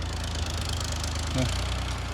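A tractor engine's steady low drone idles throughout, rumbling evenly at close range, with a brief tonal rise midway.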